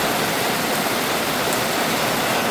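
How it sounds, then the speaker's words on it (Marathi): Heavy rain pours down in Kerala with water running along the road, forming a loud, dense, unbroken roar close by, with no voices. "हे बघा रस्त्यावरून पाणी कसं जायला लागलंय खतरनाक पाऊस"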